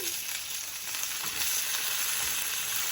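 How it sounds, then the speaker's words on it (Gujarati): Curry leaves and dried red chili hit hot oil with roasted peanuts, giving a dense, even crackling sizzle that holds steady throughout, close and fairly loud with no voices. "હવે આપણા પીનટ રોસ્ટ થઈ ગયા છે એટલે આપણે એમાં પહેલા નાખશું કરી પત્તા અને સૂકું મરચું"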